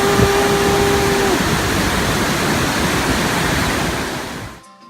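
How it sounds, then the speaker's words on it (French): Iguaçu Falls, among the world's highest waterfalls, roars as a loud, steady broadband rush of falling water that fills the whole stretch before cutting off abruptly near the end; no one speaks. "Iguaçu, c'est parmi les plus hautes chutes d'eau du monde."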